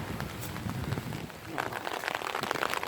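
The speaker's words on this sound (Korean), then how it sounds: "모처럼 또 산책을 나왔는데, 비가 오네요." Rain falls on an outdoor walk, a close, continuous patter of drops on the ground and surfaces with brief louder spatters, with faint background activity beneath it.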